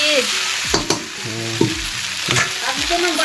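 Cumin seeds fry in a pan with a loud, steady, close-up sizzle. A voice briefly murmurs over the constant hiss.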